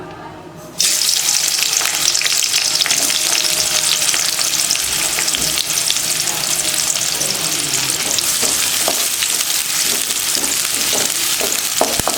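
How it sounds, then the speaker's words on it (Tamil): Sliced onions dropped into hot oil for a chicken and green peas gravy, a sudden loud sizzle that stays steady and hissing, with a few stirring clinks toward the end. "எண்ணெய் காஞ்சிருச்சு. அதில் வெங்காயம் சேர்த்துக்கலாம்."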